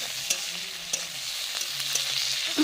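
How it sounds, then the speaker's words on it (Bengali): Ginger paste, green chili and tomato masala fry in a pan for a catla fish curry, giving a soft continuous sizzle broken by a few light stirring taps, with no talking. "এবার আদা বাটাটা দিয়ে দিচ্ছি, লঙ্কা, টমেটো, লঙ্কা সব একে একে দিয়ে ভালো করে মশলাটা কষিয়ে নেব।"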